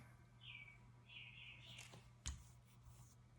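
Birds sing outdoors in a quiet suburban area, giving a few faint high chirping phrases over a steady low hum, with one brief sharp knock partway through.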